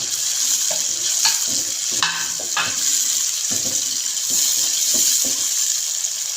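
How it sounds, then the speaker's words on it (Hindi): A large tomato drops into a hot pan of fried spices and sizzles steadily, with intermittent scraping and stirring clinks of a utensil over the constant frying hiss. "इसके अंदर एक बड़ा टमाटर मैंने ले लिया था, ये इसके अंदर डाल देंगे।"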